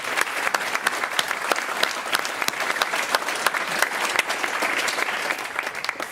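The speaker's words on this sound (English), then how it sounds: "Big applause for our panelists." Sustained, dense applause from a conference audience for a panel at an AI talk, steady clapping that fills the room for several seconds without voices standing out.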